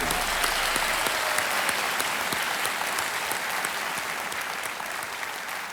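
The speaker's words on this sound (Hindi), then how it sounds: "तालियां बज जाएं।" A studio audience on the game show Kaun Banega Crorepati claps in sustained, dense applause that stays loud and steady, then eases off slightly toward the end.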